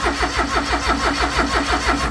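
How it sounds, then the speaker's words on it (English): An old Daihatsu engine cranks over on the starter with a steady, rhythmic chugging pulse, loud and close, repeating evenly for a couple of seconds without catching into a clear idle. "Trying to get the old Daihatsu up and running."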